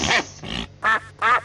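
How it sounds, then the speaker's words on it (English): A duck gives four short, nasal quacks in a quick uneven series, close and fairly loud, with brief pauses between them. "Now we have duck. Quack,"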